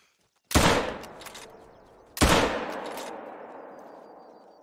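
Two sharp rifle shots in a hunting video game set in Spain, about two seconds apart, each a loud crack trailing into a long, fading echo.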